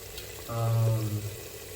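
Peanuts fry in a hot pan at home, giving a brief close sizzle that swells and fades within about a second.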